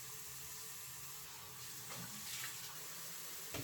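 Tap water running into a bathroom sink while washing a face, a soft steady hiss of flowing water that swells slightly near the end.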